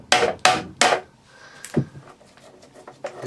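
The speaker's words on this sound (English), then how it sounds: "then you hammer the screwdriver down, and look, it pushes all that away." Three sharp, loud hammer blows drive a screwdriver into a part of a Vax Air Cordless Duo vacuum cleaner, followed by quieter scraping, knocks and handling noises.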